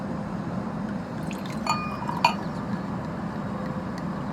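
Sparkling wine is poured into a glass for mimosas, a soft, steady fizzing pour with two brief glassy clinks partway through, at moderate distance and with no talking.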